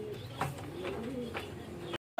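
Lalsira pigeons, a pair of the blind (andha) Lalsira breed, give soft low cooing in short repeated phrases over a steady background, close by and moderately loud, ending in a brief cut to silence.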